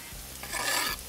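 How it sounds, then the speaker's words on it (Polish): Chopped onion and garlic fry in a pan as they are stirred, a short close burst of sizzling with scraping stirs. "Mieszamy i smażymy dosłownie minutę, tak żeby czosnek nie zgorzkniał."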